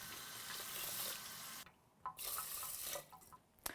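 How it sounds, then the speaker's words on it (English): Water splashes into a rice cooker in a short, close, gurgling pour that cuts off briefly, then trickles again in a few smaller spurts. "I'm just gonna add a splash more water to this"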